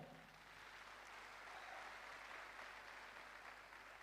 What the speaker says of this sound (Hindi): दोस्तों चाहूंगा जोरदार ताली हमारे यूसी अस्थाना साहब के लिए हो जाए